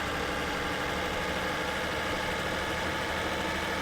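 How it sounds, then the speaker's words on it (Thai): A steady, even truck engine idle from a Freightliner Cascadia in Truck Simulator: Ultimate hums throughout, a smooth mid-low drone without revs or pauses, moderately quiet and uninterrupted. "เสียงเครื่องยนต์เนี่ย ก็ไม่ได้แบบ กระหึ่มอะไรมากนะสำหรับเสียงเครื่องยนต์นะครับ"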